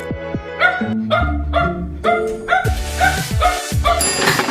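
A pet dog barks and yips in a quick run of sharp, close calls with short gaps, loud and steady over a busy indoor backdrop of other noise.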